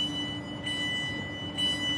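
A slow commuter train bound for Tamworth carries a steady, even rumble with a faint whine held throughout, low and continuous, with no voices.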